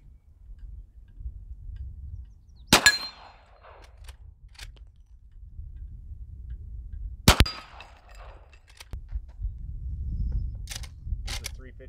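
A .38 revolver fired at targets on an outdoor range: two sharp, loud single shots roughly four and a half seconds apart, each cracking out over a low rumbling background.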